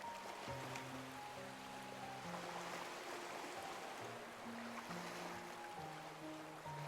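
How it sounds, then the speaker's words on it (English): Gentle ocean waves wash and hiss steadily in a video game scene, a soft continuous surf sound under a calm background melody, with no talking. "dip my feet in the water, and sense the waves' rhythm."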